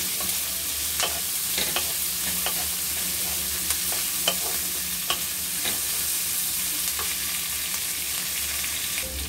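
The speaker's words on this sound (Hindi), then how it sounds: "ये प्याज भून रहा है" Sliced onions and peanuts fry in a pan, making a continuous close sizzle with regular scraping and clicking as a spoon stirs them.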